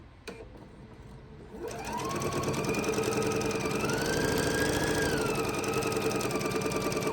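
A sewing machine stitches a quarter-inch seam on a quilt block, starting after a brief pause into a steady, close, rapid mechanical whir with a rising motor pitch that holds to the end.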